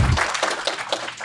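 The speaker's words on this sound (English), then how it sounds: "let's give him a big round of applause" A brief burst of audience clapping at a startup pitch event, a dense patter of many hands, short and fairly loud.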